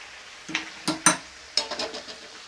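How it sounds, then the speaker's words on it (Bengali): Chicken feet with ginger being stirred in a cooking pan, a few separate scraping and clattering strokes of a utensil against the pan over a faint sizzle, close and moderately loud. "এটা আমি আবার নাড়িয়ে দিচ্ছি"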